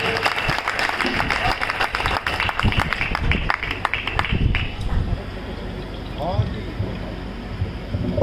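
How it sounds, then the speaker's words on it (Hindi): Audience applause for a poet at a Hindi revolutionary poetry gathering (kavi sammelan) marking Veer Savarkar's birth anniversary: loud sustained clapping from a crowd that thins and fades toward the end, with some voices mixed in. "आप जोरदार तालियां राहुल शर्मा के लिए बजाएं।"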